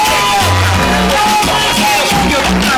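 A wrestling arena crowd cheers and shouts in a steady, loud roar, with scattered whoops and yells rising over the din.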